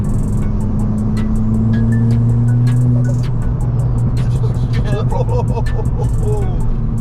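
A 320 bhp Stage 3 big-turbo Ford Fiesta ST revs hard with a rising drone, then drops off into a fluttering chatter of turbo flutter, with people talking over it.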